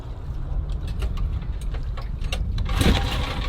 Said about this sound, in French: Je démarre plus le moteur